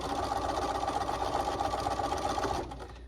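A sewing machine stitches steadily around the top of a homemade trick-or-treat bag, a continuous close whirring hum that runs for about two and a half seconds before stopping abruptly.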